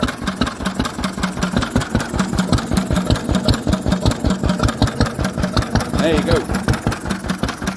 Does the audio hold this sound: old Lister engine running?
yes